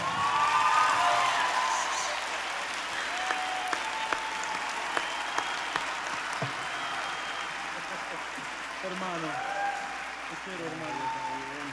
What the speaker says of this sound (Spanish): Quiero que reciban con un fuerte aplauso